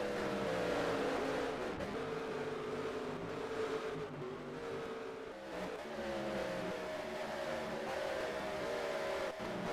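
Trucks race on the dirt oval at Knoxville in NASCAR Racing 2003, their engines holding a steady, loud, continuous drone with slight rises and dips in pitch as they run together.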